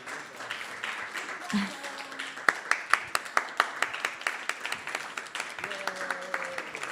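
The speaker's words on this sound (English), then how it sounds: "you all can continue to clap for our little kids" An audience claps for little kids receiving medals at an ISKCON temple gathering. The claps start scattered, then settle into a sharp, fairly steady rhythm of individual hand claps, with a voice speaking over them in places.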